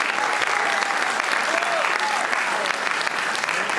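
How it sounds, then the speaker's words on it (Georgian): Dense, steady applause from an audience at a diaspora anniversary award ceremony, continuous and fairly loud throughout with no break. "აპლოდისმენტები."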